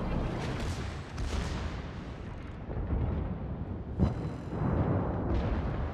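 Naval gunfire in World of Warships comes as heavy, booming salvos that roll and rumble over a continuous battle din. A sharper blast lands partway through, followed by another swelling barrage, all loud and close.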